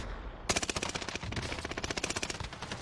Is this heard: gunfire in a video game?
yes